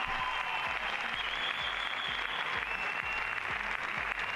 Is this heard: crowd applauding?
yes